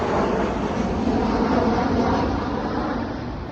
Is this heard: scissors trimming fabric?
no